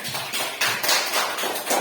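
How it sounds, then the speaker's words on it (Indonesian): Schoolchildren in a classroom clap together in a few uneven bursts, close and moderately loud, with short pauses between the rounds. "Tepuk tangan buat kita semua"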